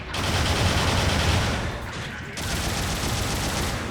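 Rapid vulcan cannon fire from a GM Cannon II in the mecha game Gundam Battle Operation 2, a loud, dense, continuous burst of gunfire with a brief dip midway before the stream of shots resumes.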